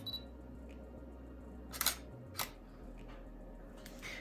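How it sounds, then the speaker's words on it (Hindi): A Canon 1500D DSLR takes a photo with two crisp, close mechanical shutter clicks about half a second apart, followed by a faint click near the end over quiet background hum. "तो ये हमने अपर्चर चेंज करके फ़ोटो ली है।"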